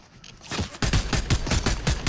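Rapid burst of video game gunfire in a snowy battle, a quick rhythmic string of about a dozen loud, close shots after a short quiet lead-in.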